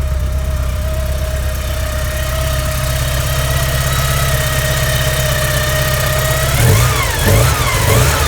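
A 1987 Porsche 944 engine idles steadily outdoors in the cold, a loud, close rumble with a constant whine, then revs briefly two or three times near the end.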